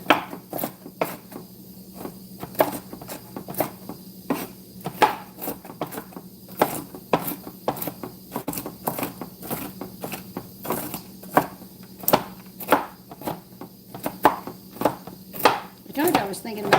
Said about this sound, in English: Now don't chop these too fine.